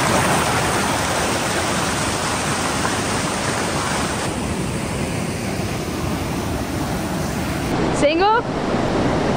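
Steady, loud roar of rushing water from a 60ft wide artificial standing wave, continuous and close, with a brief voice calling out near the end.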